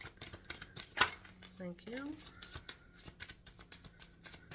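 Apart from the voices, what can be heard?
shuffling tarot cards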